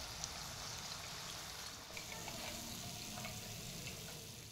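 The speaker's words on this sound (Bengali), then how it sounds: "বাকি গাঠিয়াগুলো সুন্দরভাবে ভেজে নিচ্ছি" Gathiya snacks frying in hot oil, a steady close sizzle with fine crackling bubbles that holds evenly from start to finish with no voices.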